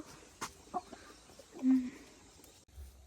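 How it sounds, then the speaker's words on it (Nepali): A few soft, scattered chicken clucks sound close by against quiet background noise, one short call standing out near the middle. "यता कुखुराहरू छन् गाइजहरू"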